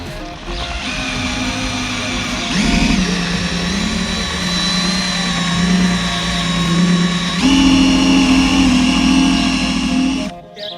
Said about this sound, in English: Buy yourself an eraser wheel, run along the edge.